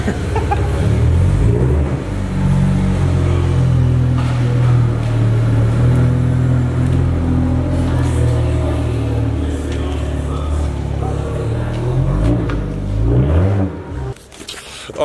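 A car engine rumbles loudly and steadily as the car rolls out of a workshop, with low revving tones and shifting pitch, close to the microphone and fading near the end.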